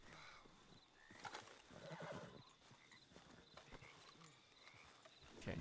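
A horse whinnies and neighs in a Western-themed game, its calls and snorts mixed with hoof clops, fairly close and otherwise without talk.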